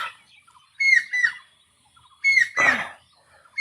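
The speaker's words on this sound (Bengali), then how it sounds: "পাখির ডাক শোনায়" Birds call outdoors at the Paharpur Buddhist vihara in Naogaon, Bangladesh, in two short bursts of bright, warbling chirps over a quiet background, with a brief rougher noise in the second burst.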